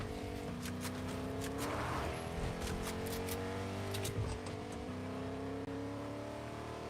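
Vehicle engine droning steadily in a Fortnite match, a truck carrying a team across the map, with a continuous revving hum, shifting pitch and occasional thumps, no talk.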